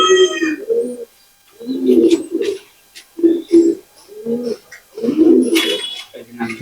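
A female Pakistani pigeon coos up close in a series of low, throaty, repeated coos with short pauses between them.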